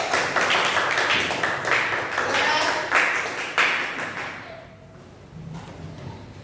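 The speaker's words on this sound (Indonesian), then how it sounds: "Yuk, beri tepuk tangan untuk kelompok 1" A classroom of students applauds group 1, with dense clapping for about four seconds that then fades, and a voice speaks briefly over the end.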